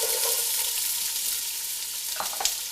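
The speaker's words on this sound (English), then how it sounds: "And then we're going to add our onions," Chopped onions sizzle and fry in extra virgin olive oil in a pan over lowered heat, giving a steady, close hiss with a couple of brief louder crackles near the end.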